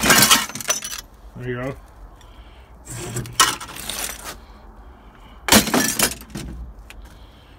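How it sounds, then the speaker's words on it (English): Glass being smashed out of a scrapped stove and air conditioner at a scrap compound, heard as three loud, sharp shattering bursts with a few clinks, while someone talks between the breaks. "I dropped that stove off in a air conditioner, and I'm done busting the glass."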